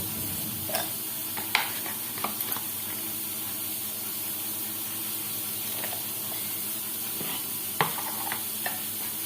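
Pointed gourd (potol) fries in a pan over low to medium flame, a steady close sizzle with occasional stirring scrapes and clinks throughout.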